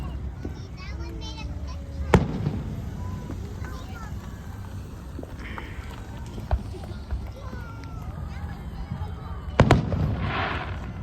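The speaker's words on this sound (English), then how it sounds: "Look at all these fireworks, guys." Fireworks burst in the night sky, sharp booms landing at irregular intervals, two standing out loudest, amid crackles and a child chattering and exclaiming throughout.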